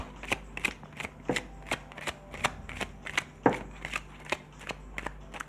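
Tarot cards are shuffled close up in a steady run of quick, crisp riffling slaps, about two per second, with no talking.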